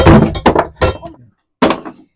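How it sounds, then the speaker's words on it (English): Several sharp hammer blows strike a rusted metal bike part in quick succession, loud and close, then a brief pause before one more ringing hit. "Just smack it hard with a hammer."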